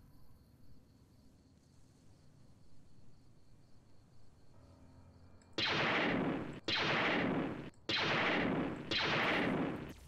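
Four loud bursts of rifle gunfire from the Fallout: New Vegas game, each lasting about a second with short gaps between, following several seconds of quiet low game ambience.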